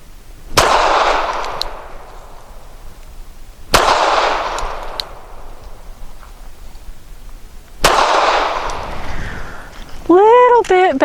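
Sig P365 SAS pistol firing Stealth Subsonic 165 grain rounds outdoors, three sharp loud shots spaced about three to four seconds apart, each trailing off in a short echo, followed by a brief voice at the end.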